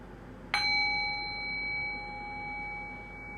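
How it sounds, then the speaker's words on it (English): A single bell is struck once, close and clear, leaving a pure ringing tone that hangs on and slowly fades over several seconds in a quiet room. "Now ring the sound of the bell one more time."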